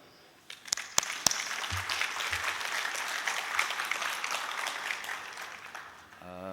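Audience at a smart food industry innovation event in Indonesia breaks into applause: a few sharp early claps, then a steady wash of moderate clapping from a room-sized crowd, tapering off at the end as a voice resumes.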